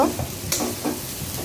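Onions being stirred and fried in oil in a wok for a Bengali pumpkin and rohu fish dish: a steady close sizzle with scraping stir strokes and a sharper clatter midway, no voices.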